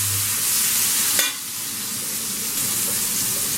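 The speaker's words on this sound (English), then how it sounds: "Give it a stir." Chopped capsicum with partly cooked vegetables stir-fried in a pan for egg fried rice, a continuous close sizzle broken by one quick scraping stir.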